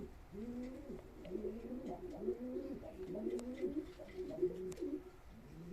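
Pigeons bred as Nail Kara play birds coo steadily at a live auction, layered low throaty calls overlapping in a continuous rolling rhythm, fairly close and moderately loud, with no talk.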